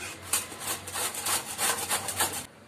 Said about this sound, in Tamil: இப்போ அடுத்தது மாங்காயம் துருவி எடுத்துக்கலாம்